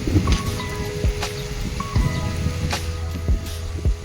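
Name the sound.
heavy rain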